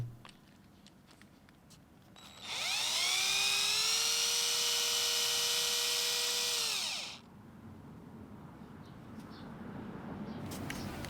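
A power drill boring a hole through a small fishing-tackle part whines at high pitch for about five seconds, starting and stopping abruptly, with quiet room noise before and after.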